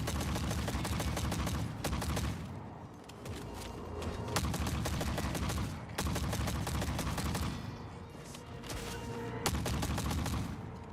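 Rapid bursts from the Viper pistol in The Forever Winter come in clustered volleys of sharp cracks, separated by brief lulls, loud and close with no talking.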